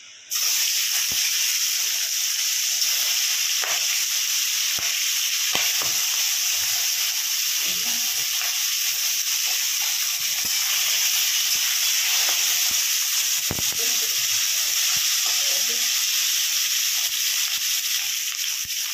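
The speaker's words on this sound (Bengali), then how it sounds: "এখন নামিয়ে আমি মাছগুলোও ভাজা করবো" Steady, loud sizzling of stinging catfish (shingi) frying in hot oil continues throughout, with occasional soft clicks and scrapes.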